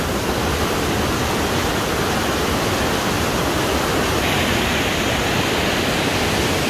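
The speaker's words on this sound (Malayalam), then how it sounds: "ഇതാണ് പാർവതി റിവർ. പാർവതി റിവർ ഒഴുകുന്നുണ്ടോ?" The Parvati River rushes by near the hot springs at Manikaran, a loud, dense, unbroken roar of fast-flowing water.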